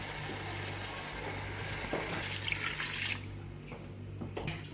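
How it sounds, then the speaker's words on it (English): Water is poured into a pot of lamb and rice with baby peas, a soft, steady splashing stream that is quiet and close. "Now I'm going to be adding in at least 2 cups of water."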